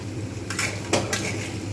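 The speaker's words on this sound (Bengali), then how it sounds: "এদিকে পনিরটা কিন্তু ভাজা হচ্ছে" Paneer frying in a pan with a soft background sizzle. Two or three clear clinks of a utensil against the cookware sound close by and stand out from the quiet frying.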